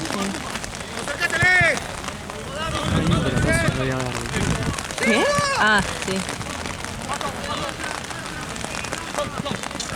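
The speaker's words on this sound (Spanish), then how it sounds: "Está lloviendo ya de verdad, ¿eh?" Rain patters steadily during a third-division league football match while people talk nearby, voices rising over the constant hiss of falling water.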